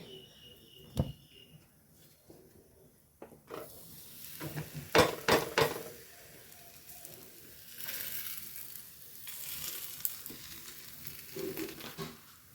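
Jackfruit pathiri fries in a pan with a low continuous sizzle, joined by scraping and clinks of a utensil against the pan and a few sharper knocks.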